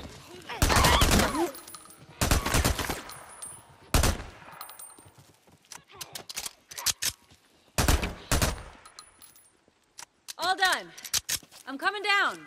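Gunfire in Days Gone comes as several loud bursts and single shots spread over the scene, with quieter gaps in between, and voices talk over and around the shooting.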